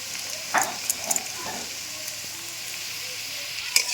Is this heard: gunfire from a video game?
no